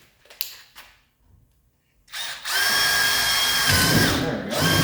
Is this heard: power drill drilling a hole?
yes